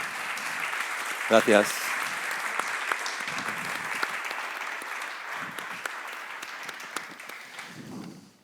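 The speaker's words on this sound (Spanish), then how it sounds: "le recibimos con un fuerte aplauso, por favor" Strong audience applause welcomes a writer at a public talk in Yaiza, a dense steady clatter that fills the whole stretch, with a brief spoken word near the start.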